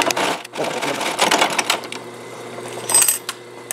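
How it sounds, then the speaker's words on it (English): A sewing machine stitching a saddle-style pancake leather holster through pre-punched holes runs loud and close with a fast, steady mechanical chatter, then eases off into slower clicks and a brief final rattle. "it's got the needle upstitching through the pre-made hole"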